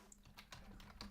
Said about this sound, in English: I'm typing on the screen.